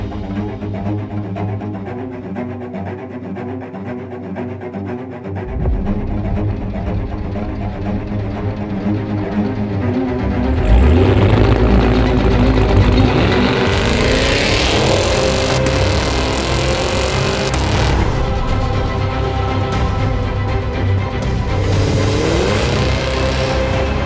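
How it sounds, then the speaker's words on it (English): Cadillac Escalade SUV engine, idling low and steady up close before revving up into a loud, deep roar with rising and falling engine tones that hold through the rest. "Coming in at number 4 is the Cadillac Escalade. The thing is a beast. Listen."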